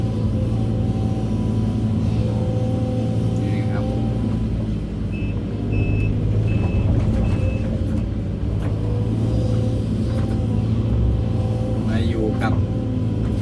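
Excavator working on a rural Thai site in Kudchum district, Yasothon, its low engine rumble steady throughout while a brief series of reversing beeps sounds near the middle, with people talking in the background.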